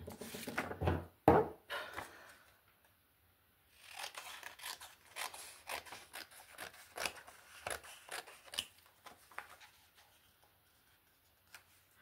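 Scissors snipping through paper for a collage in an autumn junk journal, a run of crisp close cuts with a pause, then more scattered snips and paper handling, quiet with no talk.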